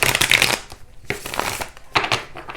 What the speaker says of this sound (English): You see how those cards just fluffed apart like that with that shuffle?